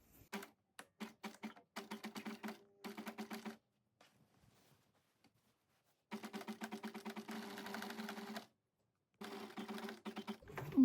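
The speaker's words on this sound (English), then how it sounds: "Now I'm just gonna follow the crease and sew it down." Sewing machine stitching beach bag fabric down along a pressed crease, running in several bursts of rapid needle chatter separated by pauses, close and clear with no talking.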